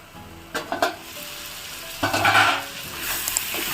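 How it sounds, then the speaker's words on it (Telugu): Chili powder being stirred into a broad bean and tomato curry in a hot pan, with close sizzling and frying broken by a few scraping stirs of a spoon against the pan. "కారం మొత్తం కలిసేలాగా కలుపుకోవాలి."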